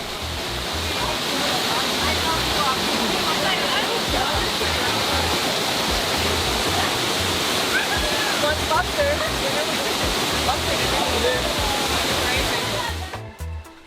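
A trail waterfall roars as a loud, constant rushing wash of falling water close by, filling the whole stretch before cutting off abruptly at the end.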